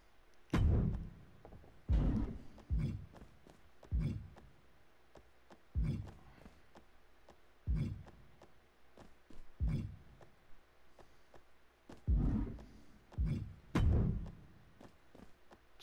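Background stomping in the WWE 2K22 wrestling game, like someone running around the ring: a series of dull, low thuds at uneven intervals, moderately faint, with no talk over them.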